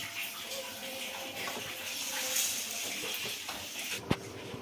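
Toor dal and basmati rice being rinsed in water in a home kitchen: steady splashing and sloshing runs throughout at moderate level, with one sharper knock near the end.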